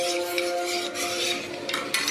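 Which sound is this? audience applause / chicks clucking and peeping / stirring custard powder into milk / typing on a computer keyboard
stirring custard powder into milk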